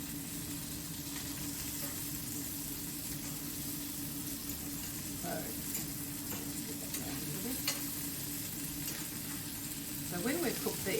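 Meatballs browning in a pan for a mushroom-sauce dish, giving a dense continuous sizzle with faint stirring noises, close and steady throughout, a brief burst of utensil movement near the end.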